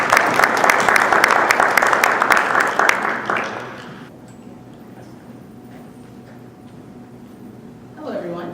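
A live audience claps warmly for a speaker at an evening talk, a dense, loud burst of applause that fades out after about four seconds, leaving a quiet room before a voice begins near the end.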